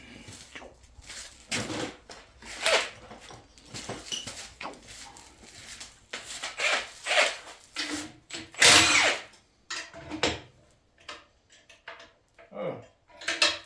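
An impact gun breaks loose tight 13 mm bolts during a 2007 4x4 4L60E transmission teardown, with a few short rattling bursts among clinks of tools and parts in a workshop.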